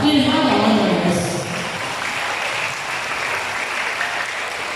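Applause at a graduation ceremony rehearsal, many hands clapping steadily and fairly loudly, with a voice trailing off over the first second before the clapping carries on alone.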